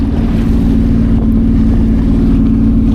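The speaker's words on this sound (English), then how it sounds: "But it seems like now just giving it some throttle," Jet ski engine revving under throttle on open water near Catalina Island, a loud steady low drone with a strong tonal hum and rumbling pulses, continuous and close, with splashing water and wind, no talking.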